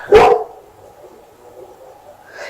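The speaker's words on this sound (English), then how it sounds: "Mind that barking, it's Marley barking for food." A single sharp dog bark up close, followed by a low, quiet background hum and a faint rustle at the end.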